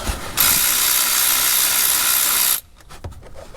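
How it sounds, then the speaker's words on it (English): A ratchet loosens the drain bolt on a RAM 1500 front differential in a loud, close, continuous mechanical whirr lasting about two seconds, then quieter scattered clicks and clinks. "So now we'll remove our drain bolt."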